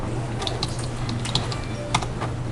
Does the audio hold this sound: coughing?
no